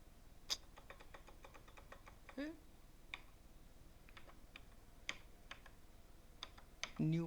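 Sparse keystrokes on a computer keyboard while setting up a new project in a programming IDE, quiet individual clicks spaced irregularly with faint background noise and a couple of brief soft voice sounds.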